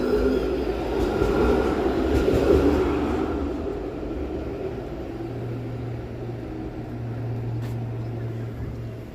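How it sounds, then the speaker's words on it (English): Toronto's 501 Queen streetcar rolls past on a cold evening street, a steady low rumble and hum that swells then fades, with faint distant voices. "I'll just let the streetcar go by. The 501 Queen, heading all the way to the end."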